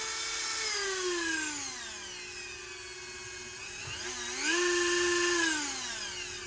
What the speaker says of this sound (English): So on a pinch, if you need to cut anything, small tool like a Dremel will work with this Anker Solix